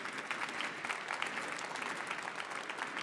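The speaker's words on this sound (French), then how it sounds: "On peut les applaudir." Audience clapping after a talk at a workshop on raw earth, bio-based timber construction and thermal inertia, a steady dense round of applause held evenly throughout, with no voices over it.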